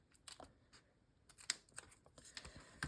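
Scissors cutting folded paper for a junk journal pocket, a few soft close snips and crisp clicks spread unevenly, faint and quiet, with no talking.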